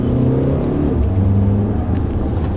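A Seat Ateca's engine pulls hard under acceleration, a loud, continuous drone whose pitch shifts as it drives, with no voices over it.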